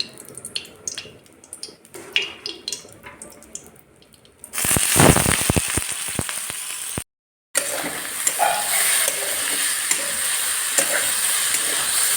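Quiet clatter at first, then a loud burst of hot-oil sizzling as potatoes drop into a wok with two chilies, settling into a steady frying hiss.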